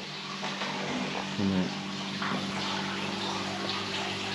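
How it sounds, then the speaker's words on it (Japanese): A steady, continuous rush of water flowing in a hotel courtyard in Cordoba, Spain, fills the space, with a faint mechanical hum underneath and no voices. "水の音聞こえますでしょうか"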